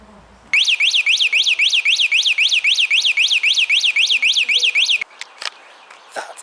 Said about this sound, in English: Okay, the alarm's set in the kitchen, about sort of 30-40 metres away.